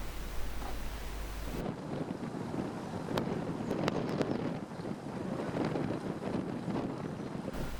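Strong crosswind roars across an exposed, bare stretch of a cycling race course, a steady gusting rush that stays close and loud throughout, with faint ticks and no talking.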